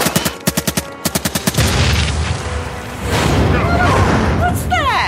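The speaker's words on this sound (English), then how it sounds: "Winnie, they're firing!" Gunfire in a wartime audio drama: rapid bursts of sharp shots rattle in quick groups, then give way to a loud wash of battle noise with shouted voices and distant whistling sounds.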